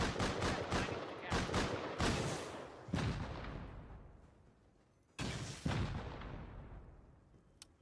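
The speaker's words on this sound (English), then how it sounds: "I'm shooting the one that shot you, Rogues." Heavy gunfire in the video game Rust, with rapid bursts of loud shots early on, then single booming blasts that ring out and decay into reverberant silence.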